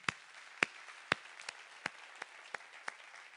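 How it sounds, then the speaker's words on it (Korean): A church congregation at a Sunday service claps, with a handful of sparse, separate claps spread out over a few seconds. The clapping sounds faint and thin, not a full round of applause. "우리 오늘 엄마들 위해서 한번 박수 하시겠습니다."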